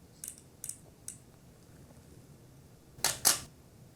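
An SLR camera shutter set to a slower speed fires up close. Sharp paired clicks come with a noticeable gap between the opening and closing sounds, and a few fainter clicks come first.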